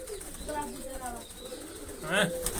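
Pigeons perched in a loft coo in soft, low rolling calls, with a brief burst of wing flapping near the end; someone talks over them.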